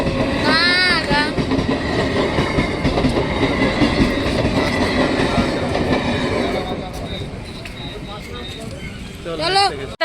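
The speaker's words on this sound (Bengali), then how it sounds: "এদিক দিয়েও কি আসবে নাকি ট্রেন" A train rumbles past close by with a steady clattering roar that slowly fades, a horn blaring near the end, voices talking over it.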